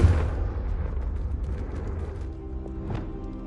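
Blasting-spell explosion: a loud, deep boom right at the start, then a rumbling roar that slowly fades over a few seconds, with faint debris clatter and pops near the end.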